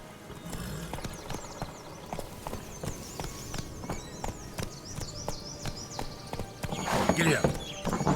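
A horse gallops in The Witcher 3, rapid rhythmic hoofbeats with a whinny, under game music and voices.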